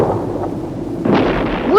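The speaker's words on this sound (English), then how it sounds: "What are they firing at?" Gunfire and explosions in a Joe 90 episode, a loud rumbling blast that swells and then gives way to a rising whistle near the end.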